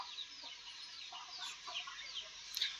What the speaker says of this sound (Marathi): बघा कोंबड्या अशा प्रकारे कोंबड्या आहेत.